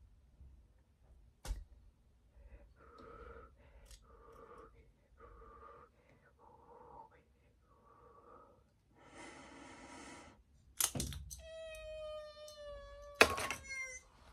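A cat meows several times in short, close, quiet cries, with breathing and snorting between them and a few sharper sounds near the end.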